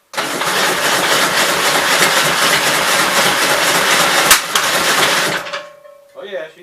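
A 1965 L8 engine with a backward-facing carburettor cranks and runs loudly and steadily for about five seconds with a rapid rumbling pulse, then cuts out, followed by brief talk.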